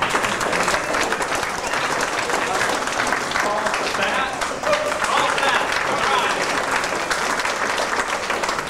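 An audience at the KansasFest 1992 special events applauds with dense, sustained clapping filling the room, while a voice speaks over it.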